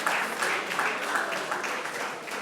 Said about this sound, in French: Encore des applaudissements pour l'artiste